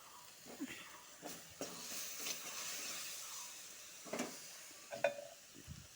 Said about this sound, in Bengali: এটা ভালো করে ভাজে নিব ভাজা হয়ে গেছে